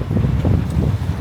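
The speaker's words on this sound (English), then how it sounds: "of course it wants to be super windy now" Strong outdoor wind buffets the microphone in low, uneven rumbling gusts, loud and continuous with no other sound.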